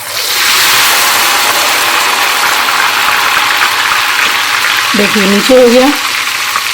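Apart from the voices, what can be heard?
ghewar batter poured into hot ghee, frying and foaming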